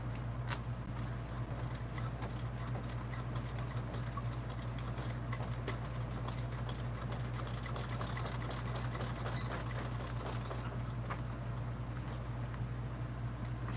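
A sewing machine stitches a Swoon Maisie bag in fast, rapid bursts of clattering needle strokes over a steady motor hum, close and continuous with brief pauses between runs.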